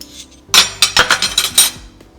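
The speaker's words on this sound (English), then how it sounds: "Give it another good stir." A metal spoon stirs potato salad in a bowl, making a quick run of about seven bright clinks against the side, close and loud, with no talking.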